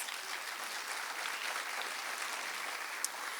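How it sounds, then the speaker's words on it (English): Audience at a teacher of the year award ceremony applauds, a steady wash of many hands clapping at medium distance, even in level for the whole stretch with one sharper clap near the end. "Let's give him a round of applause."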